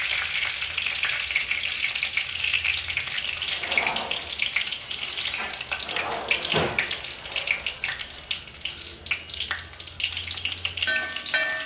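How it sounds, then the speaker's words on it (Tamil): Curry leaves hit hot oil and sizzle steadily for a Chettinad fish curry, a dense continuous crackle with a few louder spits and a faint scrape of stirring, close and alone without any talk. "கருவேப்பிலை போட்டாச்சு"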